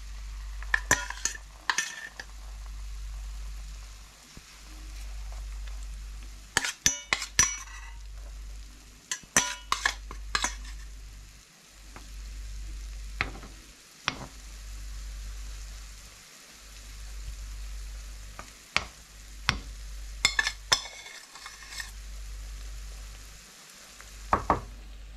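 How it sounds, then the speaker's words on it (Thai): Mussels fry in hot oil, battered like fried fish cakes. Scattered crackles and sharp pops come in bursts over a pulsing low hum, close by and with no talking. "โอเคจ้าใส่น้ำมันไปแล้วค่ะเราจะทอดหอยก่อนนะคะ"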